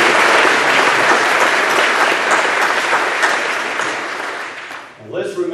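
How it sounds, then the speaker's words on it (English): A room of people applauds a pianist at a Rotary and Chamber meeting, dense steady clapping filling the space for about five seconds before fading out, followed by a brief voice at the end. "Let's give her a round of applause for her."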